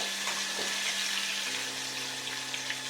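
Prawns frying in hot oil for prawn chilli, a steady sizzling hiss with bubbling close up throughout, no talking over it.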